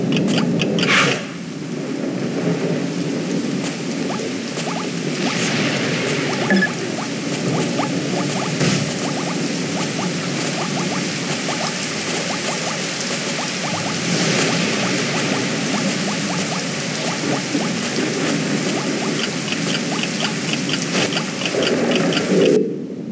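Rain and thunder in the BattleBlock Theater video game fill a gloomy shelter with a continuous dense wash of rainfall and low rumbling, steady and loud throughout with occasional brief knocks.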